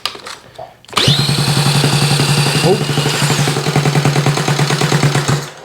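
A pink Honda Z50A motorcycle's engine cranks on the electric starter, catches after a second and settles into a loud, close, rapid putter that keeps running steadily, with a brief rev flutter partway through.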